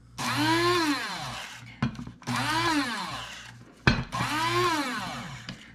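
Dried nettle leaves ground into powder in an electric grinder, with three close, loud whirring bursts that rise and fall in pitch, separated by short pauses and clunks, and no speech.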